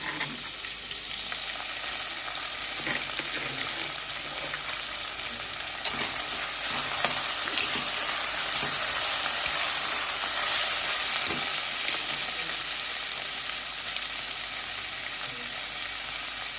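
Ginger garlic paste fries in a hot pan for a methi and pea millet pulao. A steady, close sizzle hisses throughout, with occasional small pops and stirring scrapes.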